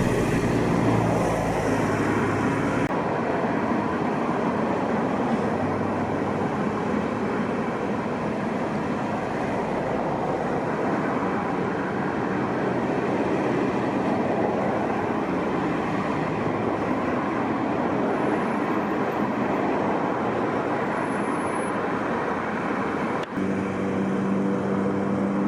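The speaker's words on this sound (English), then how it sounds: "The Tesco train, at nearly half a mile in length, and subject to the 10 miles per hour limit here as it enters into the yard, will take a long time to pass by" A nearly half-mile-long Tesco freight train creeps into a Carlisle rail yard at about 10 mph, a steady, loud rumble and clatter of wagons rolling past close by without a break.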